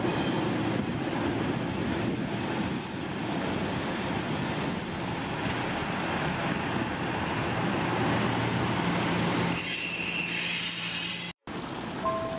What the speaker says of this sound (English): welcome on board this 10:25 East Midlands train service